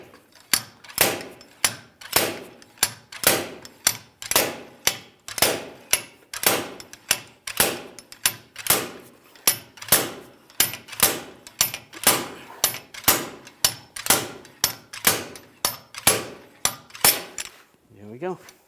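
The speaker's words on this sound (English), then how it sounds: "Install the slide hammer to the adapter." Slide hammer pulling a rear axle bearing on a 2011-2018 Ram 1500, a long series of sharp metallic knocks at a steady, fairly quick rhythm, close and loud, ending with a short tail of quiet.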